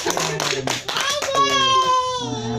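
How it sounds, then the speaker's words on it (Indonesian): Women at a community household-finance and business-planning meeting in Indonesia clap together in a short burst of claps, partly buried under overlapping voices and chatter. "tepuk tangan untuk ibu"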